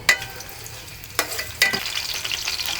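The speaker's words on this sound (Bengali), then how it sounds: "আমি দিয়ে দিলাম পেঁয়াজ কুচি।" Chopped onions hit hot oil and fry with a crisp, close sizzle, punctuated by three sharp spatter bursts before settling into a steady crackle, with nobody talking.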